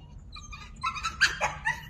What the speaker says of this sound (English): Feeding the dogs some ham.